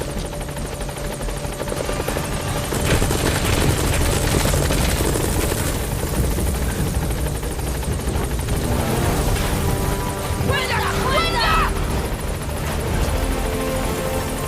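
A support helicopter arrives in the video game Metal Gear Solid V: The Phantom Pain, its rotor thudding loud and continuous with a steady engine drone, sustained throughout.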